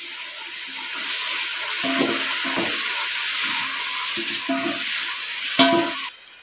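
Onions sauté in a pan for white khushka rice, giving a constant hissing sizzle broken by several soft clacks and scrapes of stirring, all close and without talk.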